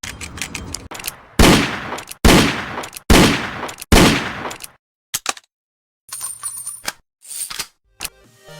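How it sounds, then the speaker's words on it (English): Revolver gunshots in a Godot multiplayer first-person shooter game, four loud, close booming shots evenly spaced, followed by quick mechanical clicks and cylinder rattles of reloading. "And here's the revolver in action."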